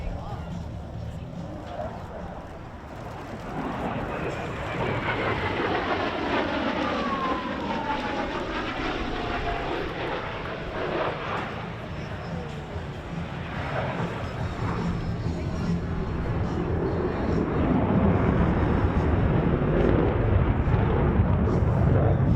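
An F-18E Super Hornet jet flies an inverted whisper pass at an air and space show, a broad roaring rumble with sweeping pitch shifts that holds steady and swells louder toward the end.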